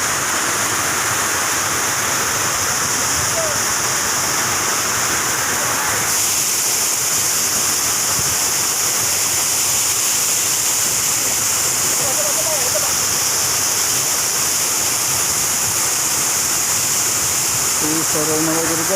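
Mahayahay Falls in Matalom rushes as a steady, loud broadband roar of falling water that fills the whole stretch without letting up, with faint voices occasionally audible beneath the noise.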